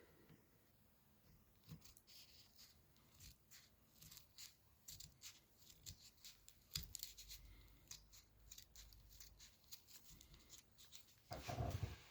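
Scissors snip through paper while cutting out a paper snowflake, in quick, uneven clusters of crisp cuts, close and quiet, with a louder rustle near the end.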